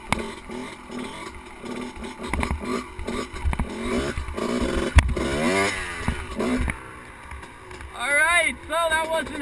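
Motorcycle engine on an FMX freestyle dirt bike held up in a high wheelie, revving and climbing in pitch in bursts, mixed with wind noise and someone talking over it.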